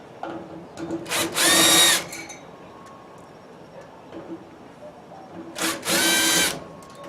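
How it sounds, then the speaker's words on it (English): A power driver backing screws out of an electric dryer panel: two short whirring bursts separated by a quiet pause, close and clear. "We take the screws out."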